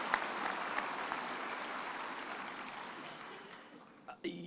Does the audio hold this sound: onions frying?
no